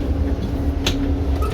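Inside a moving passenger train, a steady low rumble and hum of the carriage with a brief clack partway through.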